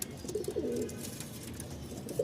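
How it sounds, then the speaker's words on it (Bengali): A male pigeon gives a short run of soft, throaty coos close by, the low rolling call rising and falling against light background noise, with no speech. "আমাদের এই ককা কবুতরটার একটু ডাক শুনি"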